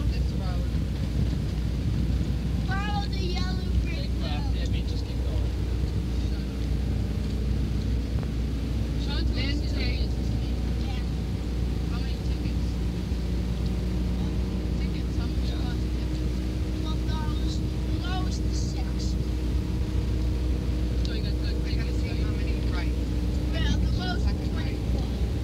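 A car climbs a hill at about 40 miles an hour in 1978, with a steady low engine and road rumble and wind buffeting throughout, while voices speak intermittently over it.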